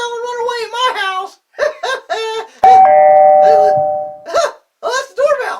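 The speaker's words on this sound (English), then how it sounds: "Oh, that's the doorbell." A doorbell in a house chimes once, a clear sustained tone lasting over a second, between bursts of animated, playful speech.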